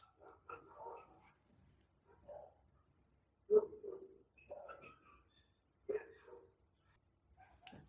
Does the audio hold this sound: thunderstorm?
no